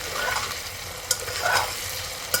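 Soybeans stir-fried in a pan for masale bhat, a steady close sizzle of oil with a spoon scraping and stirring through, two brief sharp clinks of metal against the pan.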